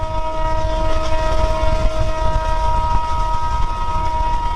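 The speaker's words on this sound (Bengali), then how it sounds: "আর এই যে ট্রেন আমাদের" A train runs steadily past near the Kurigram border area facing Bhutan, a loud continuous rumble of wheels and carriages with a sustained horn-like tone over it, and no voices.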